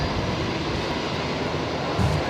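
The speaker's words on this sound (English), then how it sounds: "The Fokker 70 heading off there." Fokker 70 jet departing Brisbane airport, a steady distant broadband engine roar that holds constant throughout with a slight swell near the end, no voices.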